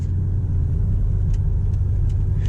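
A 2021 BMW X5M Competition SUV drives around town, a steady low engine and road rumble heard from inside the cabin, with no talk.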